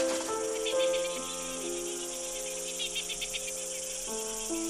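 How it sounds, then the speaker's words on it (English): Nocturnal insects chorus on Little Barrier Island, New Zealand, a dense, steady chirring of many callers with sustained tonal trills layered together, continuous and fairly close, with no voices. "As Little Barrier Island's songbirds go to roost, a choir of nocturnal insects takes their place."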